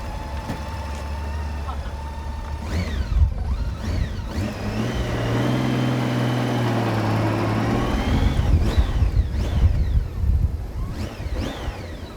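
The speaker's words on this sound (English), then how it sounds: "The exhaust note has a nice rumble to it." A 2010 Honda GL1800 Goldwing motorcycle being ridden gives off a deep exhaust rumble, the engine note rising and falling as it revs, close and fairly loud throughout.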